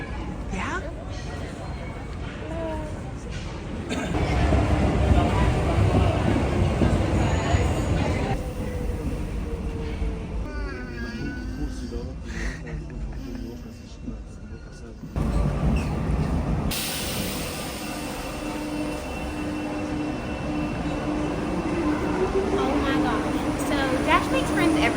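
Interior of a moving train in Paris, with a low rumble and rolling rattle that swell and dip, a brief squeal-like whine, and voices speaking over the travel noise.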